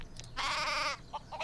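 A single sheep bleats in Craft the World, one drawn-out wavering call in the middle of the moment, followed by a couple of short faint calls.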